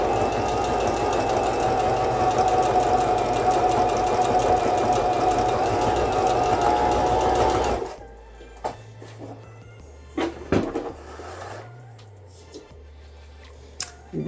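Singer M3220 sewing machine stitching linen with cotton thread: a steady, close motor whir with rapid needle clatter runs for about eight seconds, then stops, leaving a quiet room with a few soft handling knocks.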